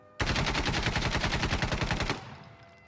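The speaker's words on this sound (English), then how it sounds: "now we're going to go full auto, Ace 52, 20 rounds, no attachments, no control" An ACE 52 rifle fires a 20-round full-auto burst without attachments, a fast, even, loud string of shots lasting about two seconds before cutting off into a short echo.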